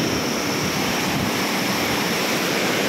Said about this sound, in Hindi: ये शोर चेक करें पानी का